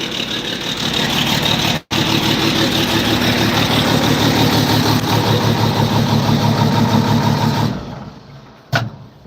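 A John Deere 4430 tractor engine idles loud and close with a steady, throbbing diesel rumble, briefly interrupted once, before it cuts out near the end.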